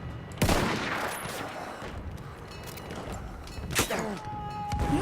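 Gunfire in the video game Battlefield 1, a burst of shots under a steady background of distant battle noise, with louder sharp cracks near the start and again toward the end.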